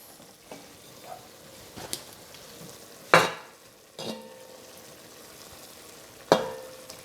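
Veal paupiettes set back into a pan of reduced wine, giving a soft sizzle and several sharp scraping and knocking hits of a utensil against the pan, spaced a few seconds apart, with no talk.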